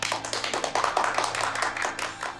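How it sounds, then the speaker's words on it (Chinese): A small group gives a brief round of applause at a meeting, a quick run of close, irregular hand claps lasting a couple of seconds. "掌声欢迎。"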